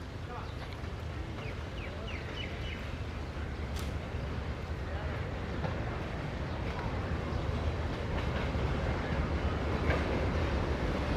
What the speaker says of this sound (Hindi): तो ये आ रहा जी पाकिस्तान रेलवेज़ का shared locomotive AG30 6017 18 down Miller express के साथ